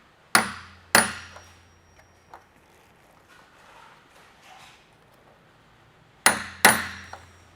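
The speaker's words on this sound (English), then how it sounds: "just give the washer a whack with a hammer in the socket." A hammer whacks a washer seated in a socket while fitting the grille on a 2016-2023 Toyota Tacoma; two sharp metallic strikes open the sequence, followed by a few light taps, then another pair of loud, close blows near the end.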